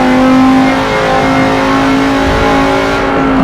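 An American truck engine in a racing video game holds a loud, sustained high rev, droning steadily and close for the whole stretch with no talk.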